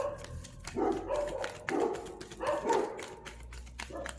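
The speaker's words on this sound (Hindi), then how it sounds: "इतना ये भौंक रहे हैं। मेरे पास 2 डॉगी हैं, एक जर्मन सॉरी एक रॉटवेलर है" Two dogs, a Rottweiler and a smaller breed, bark repeatedly indoors at something below, with rhythmic bursts of moderately close barking and yips.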